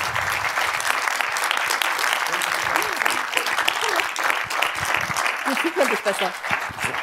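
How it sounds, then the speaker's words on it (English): Audience applause for a film director at a documentary film festival talk, dense steady clapping from a large crowd filling the room for several seconds, with some voices mixed in near the end. "Please welcome with an even warmer applause the director of HOLLYWOODGATE, Mr. Ibrahim Nashat."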